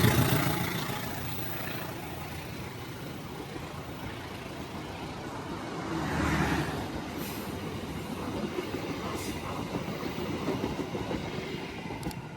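A Pasundan train passes at Jeruk Legi station in Indonesia, a continuous rumble of rolling wagons that swells briefly midway, with faint squealing wheels over the steady clatter.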